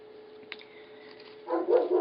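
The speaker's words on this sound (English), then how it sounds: "there's my dogs. It never fails that they'll have to bark while I'm videotaping" Several dogs bark in another room during a floral wire-working session, a faint tick first and then a louder cluster of barks toward the end.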